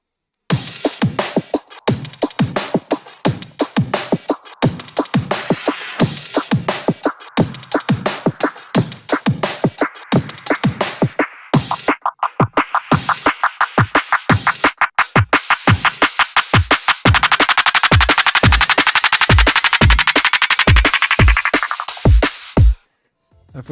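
A liquid drum and bass drop with filter automation: fast, punchy breakbeat hits drive steadily while a bright, swelling filtered layer rises through the second half, loud and dense before cutting out abruptly at the end.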